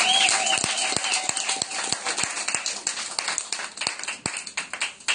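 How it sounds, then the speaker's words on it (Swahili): A church congregation claps loudly during a Sunday service, with sharp irregular hand claps that thin out toward the end, and no talking over them. "Piga Bwana makofi makubwa."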